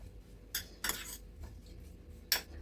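A spoon scrapes and clinks against a dish while seasoned fish with cumin and salt is stirred for an oven-baked fish tagine, with a few sharp, close clinks separated by quieter scraping.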